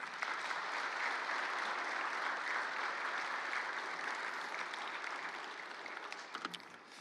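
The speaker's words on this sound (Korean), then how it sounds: "서계원 목사님 나오실 때 큰 박수로." A church congregation gives loud, sustained applause as a pastor comes forward, a dense even wash of clapping that holds steady before thinning out near the end.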